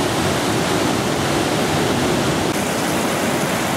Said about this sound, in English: And the weir pool, just a great boiling mass of water.